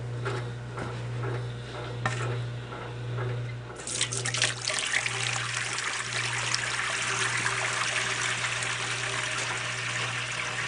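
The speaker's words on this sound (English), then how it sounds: "I'm going to take the water hose here. I'm going to wash it out." Water from a hose gushes into the tub of an old wringer washing machine, starting with quiet trickles, then a sudden loud steady rush of rinsing water that carries on alone.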